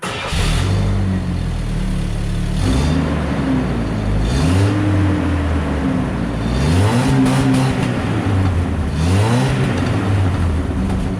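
A car engine with a new muffler close by revs repeatedly, the pitch climbing and falling in several rising swells over a throaty, continuous exhaust rumble.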